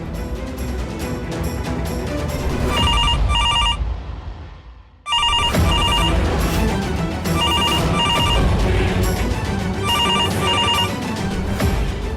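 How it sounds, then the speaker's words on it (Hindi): A telephone rings loudly and continuously in a bright electronic ringtone pattern, briefly cutting out before resuming. "कहीं ये पायल का फोन तो नहीं?"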